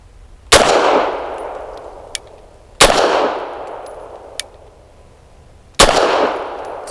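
Three loud, sharp suppressed shots from an FB Radom Vis 100 M1 pistol firing PPU 158 grain subsonic ammunition ring out at irregular intervals. Each shot decays quickly, and faint metallic clinks fall between them.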